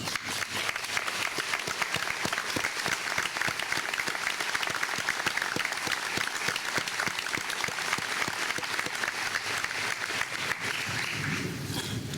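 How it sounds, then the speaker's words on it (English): A high school graduation crowd applauds a student standing to be honoured, a loud sustained roar of many hands clapping for about twelve seconds before thinning slightly at the end. "Todd, please stand now as we honor you with a round of applause."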